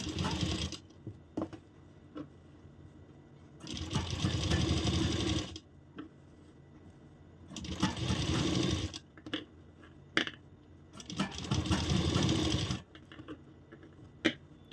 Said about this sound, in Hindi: इसके ऊपर हम इसको रखते हुए दाब स्टिच लगा लेंगे